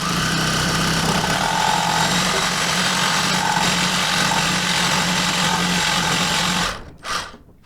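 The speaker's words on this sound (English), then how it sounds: "the best way that I found to do that is to cut it with a sawzall and then tap it out" A reciprocating saw cuts through a metal bushing sleeve on a Hummer H3 differential, a loud, steady buzzing rattle running for several seconds before stopping abruptly, then a brief short burst.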